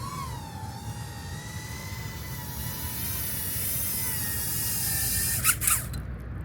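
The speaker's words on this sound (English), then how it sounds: "I'm just gonna land the drone now" A Flywoo FlyLens 85 FPV drone whines with high, shifting propeller tones over a steady rumble. The pitch glides down as it settles to land, and a couple of short knocks sound at touchdown before it cuts out.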